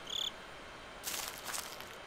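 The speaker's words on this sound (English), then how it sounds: "Okay, that was crickets" A short burst of cricket chirps in a horror video game at the start, then faint high hissing bursts over a quiet background.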